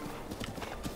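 Horse hooves clip-clop at a steady trot in the video game Zelda Breath of the Wild, a quick run of dull thuds over a constant background bed lasting about a second.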